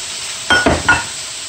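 Vegetables hit hot sesame oil with two or three loud bursts of sizzling and tossing, each a short rush over a steady background hiss, then settle back to a quieter fry.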